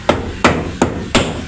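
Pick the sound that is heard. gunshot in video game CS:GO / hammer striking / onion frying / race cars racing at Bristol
hammer striking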